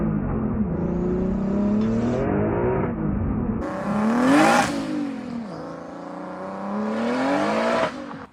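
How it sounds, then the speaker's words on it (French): A rally car accelerates hard on a test drive, recorded from inside the cabin: the engine revs climb repeatedly through gears, with loud rising whines, short drops between shifts, and tire and road noise underneath. "Du coup, Chris va partir essayer la voiture."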